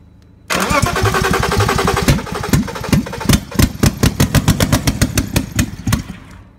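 A flooded car engine full of residual gas cranks and catches, running loud and rough close by, with uneven pulsing as it tries to settle.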